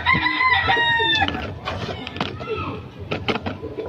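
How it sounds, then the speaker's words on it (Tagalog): A bird from the Pasig market gives one loud crow, followed by clucks and shorter calls, close by, with people talking around it. "Galing Pasig Palengke yung ibon."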